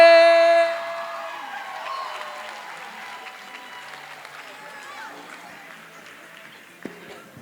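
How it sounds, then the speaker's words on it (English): Applause from a poetry slam audience at a live Texas Grand Slam event, a burst of clapping that quickly fades to scattered, thinning claps, with a brief voice heard over it. "Clap for the poet if you liked what you heard"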